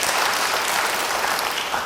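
Congregation in a church applauding together, a dense, steady wash of clapping filling the whole moment without pause.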